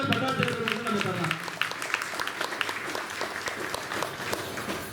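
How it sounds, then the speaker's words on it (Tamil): Audience applause for the temple priests at a divine wedding ceremony at the Pandarinathan temple in Karur, sharp claps scattered through the crowd, with someone speaking over it. "நல்ல பலத்த ஒரு கைத்தட்ட பட்டாச்சாரியர்களுக்கு நம்ம தரலாம்"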